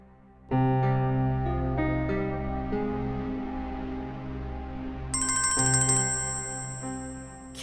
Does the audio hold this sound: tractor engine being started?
no